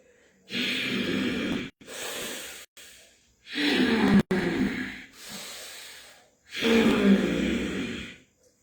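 Forceful, audible pranayama breathing is demonstrated as four long, loud hissing breaths separated by short pauses, each loud, close and rushing, with no talk over them.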